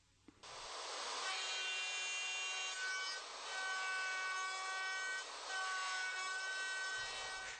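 A router with a straight bit and template guide bush cuts dovetail pins in a vertically clamped wood board on a Leigh dovetail jig, a loud steady high whine with grinding cut texture, starting abruptly and running close throughout.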